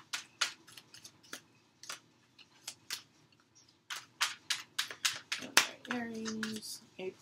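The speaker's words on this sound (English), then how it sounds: "All right, a couple more shuffles, guys." Tarot cards being shuffled by hand, giving a run of crisp riffling bursts and soft slaps at an uneven rhythm, close and fairly loud, with a brief tonal squeak near the end and no talk.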